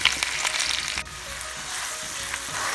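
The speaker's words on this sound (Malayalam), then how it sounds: "ഇതെല്ലാം ഒരുമിച്ച് തന്നെ ചേർത്ത് നമുക്കൊന്ന് വഴറ്റിയെടുക്കാം." Garlic, onion and ginger sauté together in hot oil for Chinese fried rice, a continuous close sizzle and crackle with a brief dip where the pan is stirred.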